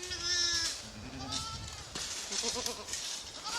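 A black Kachaikatti goat, a traditional breed from Vadipatti near Madurai in Tamil Nadu, bleats up close in a few short wavering calls over faint background noise.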